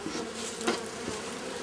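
Honeybees buzzing around an open hive during the first inspection of the season, a faint, steady drone with one brief, louder pass of a single bee close by.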